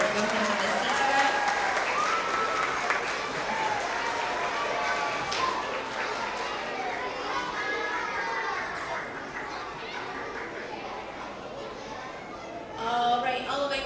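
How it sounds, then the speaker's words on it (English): Clapping for young readers at a K-2 school award assembly, steady applause mixed with excited children's chatter and shouts, moderately loud throughout, with a brief swell near the end. "another round of applause for all of these amazing readers"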